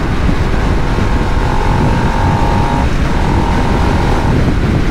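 Steady loud wind buffeting and rumble on a 2022 Harley-Davidson Nightster 975 while riding, a continuous broadband roar with a faint steady tone, no talk.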